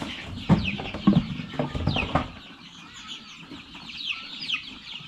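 Chickens on a poultry farm cluck and squawk close by, several sharp calls early on, then a quieter stretch of scattered clucking with some wing flapping.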